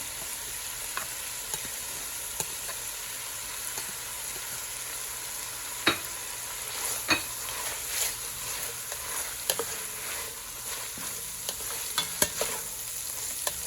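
Ginger and garlic fry in a pan with carrots and celery, giving a steady, close sizzle throughout, with scattered utensil clicks and scrapes as the pan is stirred.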